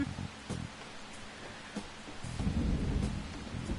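Background thunder in the video game Persona 5 Royal, a low rumbling storm with a few soft thuds early on, swelling into a heavier, sustained roll toward the end.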